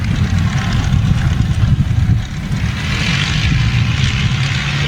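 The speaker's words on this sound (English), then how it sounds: "we get a cacophony of V12 Merlins when she comes up here and really lays it on" The four V12 Rolls-Royce Merlin engines of a Lancaster bomber run during a taxi run, giving a steady, loud, low droning rumble that swells slightly in places.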